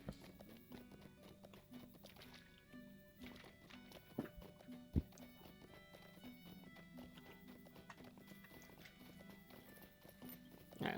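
Horse hooves in the video game Lord of the Rings Online, a quiet, rhythmic clip-clop of a ridden mount at walking pace over soft background game music.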